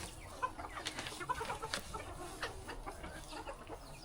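Roosters and hens on a farm cluck and call repeatedly at moderate distance, with short bright crows and clucks scattered over a steady outdoor background.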